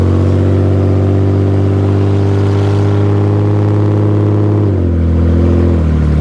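A loud, rough 1998 Audi A6 Avant engine drones steadily while driving, its pitch dipping as the revs drop near the end.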